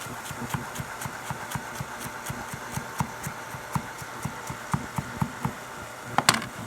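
A knife chiffonades rolled fresh parsley on a cutting board with quick, evenly spaced taps, close and fairly soft, over a faint steady background hum.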